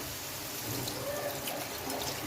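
A glass of water pours steadily into a pan of potato curry, a soft continuous trickling splash at close range with faint background noise.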